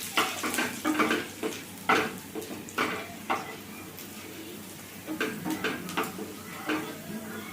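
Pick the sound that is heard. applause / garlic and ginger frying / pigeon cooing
garlic and ginger frying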